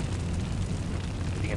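Tank cannon fire and a blast in a tank combat game come through as a heavy, sustained low rumble and boom, loud and close, with voices talking over it.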